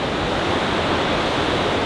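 A waterfall pours down in a steady, loud, continuous broadband roar, a constant rushing wash of water with no voices over it.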